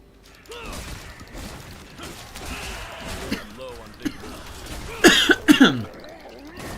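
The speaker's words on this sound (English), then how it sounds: "I'm also coughing a little lately." A person coughs three or four times in quick, harsh bursts close by, after a stretch of voice and low room sounds.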